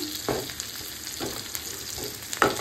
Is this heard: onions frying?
yes